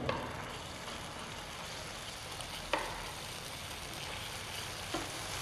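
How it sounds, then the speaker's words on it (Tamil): Masala chicken with lime-juice marinade sautéing lightly in a pan makes a faint, even sizzle, broken by a few sharp utensil clicks against the pan. "ஆட் பண்ணிவிட்டு இதை லைட்டாக வதக்குங்க"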